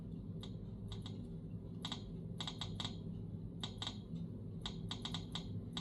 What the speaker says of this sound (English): That's our clicker coming through because it's an analog audio output